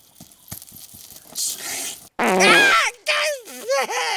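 Comic fart sound effects from a Bangladeshi comedy sketch: a few soft short pops, then a loud sputtering blast and wavering squeaky trailing noises, close and isolated.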